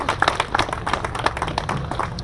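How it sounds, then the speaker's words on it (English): A crowd applauds golf course partners at a grand re-opening event, steady scattered clapping from many hands, close and lively with no talk over it. "A round of applause,"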